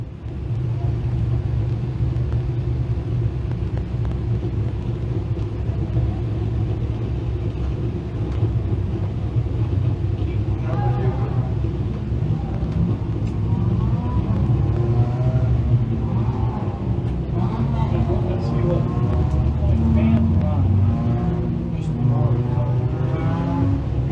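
Thundercar race cars at a dirt-track heat race roll trackside with a continuous low engine rumble and some revving, heard at a moderate distance under steady background noise.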